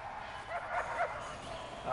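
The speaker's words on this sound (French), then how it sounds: "Ah, ça aboie." Short dog barks and yips from the prison-building video game Prison Architect, a few quick high calls spaced over the clip against a steady background hum of game ambience.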